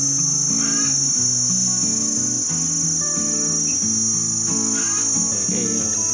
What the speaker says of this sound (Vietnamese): Có ve rồi nha các bạn, ve nó kêu ôm ưng nổi luôn.